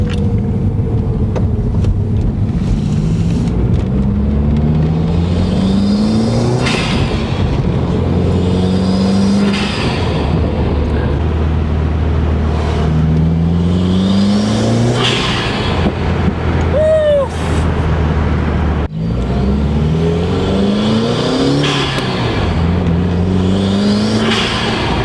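A car fitted with a Cobb blow-off valve revs repeatedly, its engine rising and falling in loud, close bursts, with the valve popping and whooshing as the revs drop.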